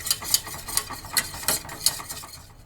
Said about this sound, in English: You want to take and whisk these until they're very creamy.